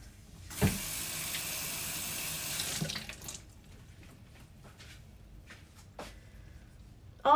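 Kitchen tap running into a sink as food is rinsed for cooking adobo and tinola, a steady close hiss of water for a couple of seconds before it shuts off, followed by quiet clatter and a few faint knocks.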